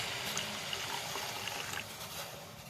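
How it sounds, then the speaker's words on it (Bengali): Water poured steadily into a pot for tea, a soft continuous trickling stream heard close but faint, with no talking. "বাট এখন আমি পানি দিয়ে দেবো।"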